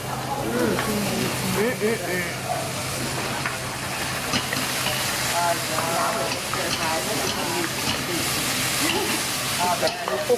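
Stir-frying in a pan with sauce at a Thai cooking class in Bangkok: a steady, loud sizzle and hiss runs throughout, with scraping stirs and faint voices in the background.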